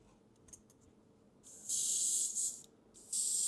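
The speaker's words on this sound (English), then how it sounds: "I filled the airbrush up. I've got it coming through nice." Airbrush spraying paint onto an Airfix Tiger tank model, fed by a Fengda FD186 compressor: after a few faint clicks, a loud, close, steady hiss runs in two bursts with a short pause between, no talk.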